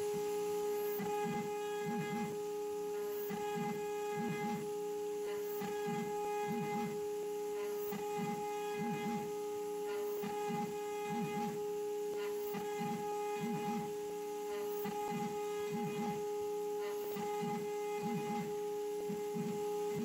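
CNC spindle cutting a hole with a vacuum running, a loud steady whine and hum with a regular pulsing rhythm from the repeated cutting passes, close and continuous with no talking.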